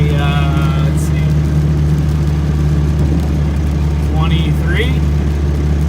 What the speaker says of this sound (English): we're actually doing 55 and about 1550 RPM in fifth gear